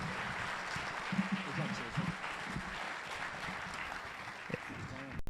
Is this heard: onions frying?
no